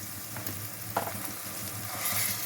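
Onions with a ginger-garlic paste ground with cinnamon and cloves frying in oil for an aloo green lentil curry: a soft, steady sizzle with a couple of faint stirring clicks.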